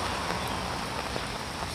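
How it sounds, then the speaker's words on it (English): Steady rain falls on a trail in cold weather, a dense even hiss of drops filling the whole moment, close and constant with no talk. "And of course, it started raining."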